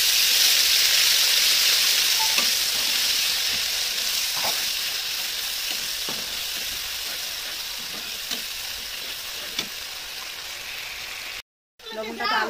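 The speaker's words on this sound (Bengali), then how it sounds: "এবার মশলাগুলো দিয়ে ভালো করে কষিয়ে নেব।" Spices sizzle and fry steadily in a pan for a pangas fish and potato curry, with occasional stirring scrapes and clinks, close and continuous before a brief cut near the end.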